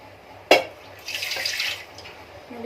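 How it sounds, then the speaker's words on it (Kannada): Water is poured into a cooking pot of ridge gourd bassaru in a home kitchen. A sharp clatter comes first, then a short gush of splashing pouring runs for about a second and fades out, with no talk. "ಇವಾಗ ಸ್ವಲ್ಪ ನೀರು ಹಾಕ್ಕೊಳ್ತಿದ್ದೀನಿ ನಾನು"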